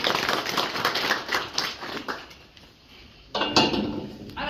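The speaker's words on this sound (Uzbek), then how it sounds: "Olqishlab qo'yasiz." An audience at a lecture on modern treatment of digestive diseases in cattle claps. A brisk, scattered burst of clapping fades into a short lull, then a second, sharper round of claps breaks out.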